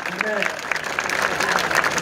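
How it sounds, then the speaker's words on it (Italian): Audience applause at an outdoor concert in Altomonte, a steady crowd clapping with voices calling out and a person speaking over it. "un applauso"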